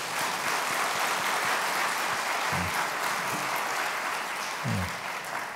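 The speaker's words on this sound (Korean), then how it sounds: "서로를 위해서 크게 박수 한번 하겠습니다." Sustained applause from a congregation at an early-morning church prayer service as members clap for one another, steady and dense throughout, with a couple of brief low thumps.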